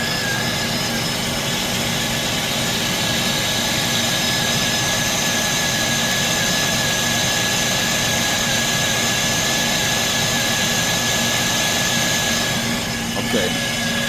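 A Jeep Liberty 3.7L V6 idles steadily after a water pump replacement, a continuous, even engine drone holding close and loud for the whole stretch with no talk over it.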